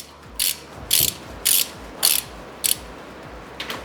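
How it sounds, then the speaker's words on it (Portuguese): A hand ratchet with a T40 bit turns an automatic transmission bolt at low torque, making five quick, close clicking bursts at a steady rhythm, then a fainter pair, with no talking. "a gente só vai pegar ali a T40 para dar um torque baixinho aí"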